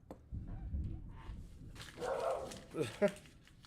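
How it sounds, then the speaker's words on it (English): A dachshund-beagle mix dog gives a few short barks and yips near the end, following murmured talk and low background rumble. "you'll hear my wiener dog, Beagle wiener dog"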